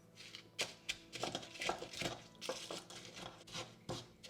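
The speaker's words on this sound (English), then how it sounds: "So best to use a pestle and mortar." Spices ground in a terracotta pestle and mortar for South Indian podi potatoes, giving a run of quiet, irregular scraping and knocking strokes, close and alone.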